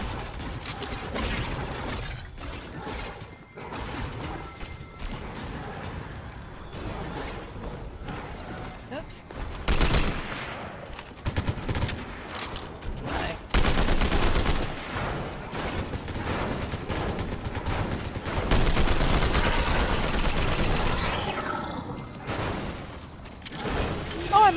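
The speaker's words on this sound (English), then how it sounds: "How are you getting so much shots on me?" Gunfire rings out during a Fortnite match as scattered shots and sharp bursts, some quick volleys louder than others. Players talk throughout.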